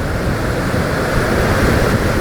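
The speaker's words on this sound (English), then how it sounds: "This is it. This is the tropical storm." Strong wind from a tropical storm roars without pause over crashing surf on the Siargao coast, loud and close, buffeting the microphone in a dense, unbroken wash with no speech.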